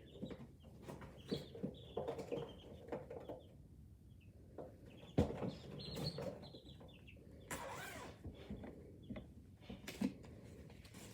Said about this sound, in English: Quiet down, chicken.